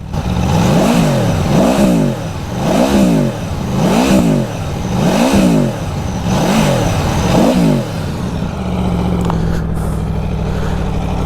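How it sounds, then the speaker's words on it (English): A 2021 Aprilia Tuono 1100 Factory motorcycle engine revs hard and close up, climbing and dropping in about seven regular rising-and-falling bursts before settling to a lower idle. "start the bike up"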